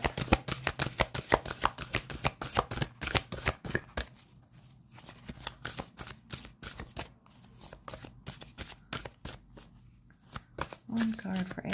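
Tarot cards being shuffled by hand, a long run of quick, crisp riffling snaps that thin out midway and then pick up again, close-up, with a soft voice speaking over them.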